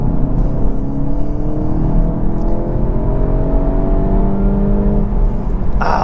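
A Mk8 VW GTI engine accelerates hard in sport mode, its tone climbing steadily in pitch with a smooth, loud whir, close up and without talk.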